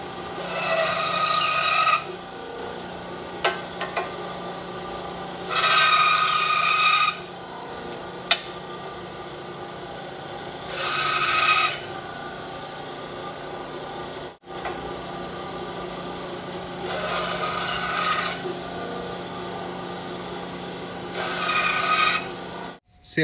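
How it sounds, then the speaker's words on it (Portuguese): An Einhell TC-SB 200 benchtop band saw cuts through pine wood in repeated passes, with steady rasping bursts of blade on wood separated by quieter running of the motor, close and fairly loud, with no talking. "Serrar pinos é igual serrar isopor. É muito, muito fácil."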